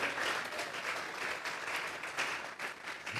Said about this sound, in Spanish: Regálele ofrenda de palmas al Dios de la gloria.